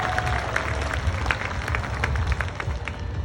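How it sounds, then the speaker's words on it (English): An audience at an animal show with performing cats at Six Flags Discovery Kingdom gives a sustained round of applause, a steady crowd-wide clapping wash with light crowd noise. "How about one final big round of applause for all of the cats today?"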